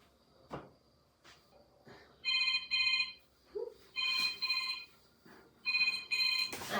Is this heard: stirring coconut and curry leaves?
no